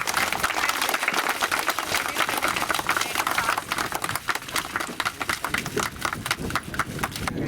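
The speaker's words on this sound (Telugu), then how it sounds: "బ్రోచర్ లాంచింగ్ అందరూ క్లాప్స్ కొడుతూ వెల్కమ్ చేద్దాం." A crowd applauds at a brochure launch event, sustained dense clapping from many hands, steady and fairly loud with no talk over it.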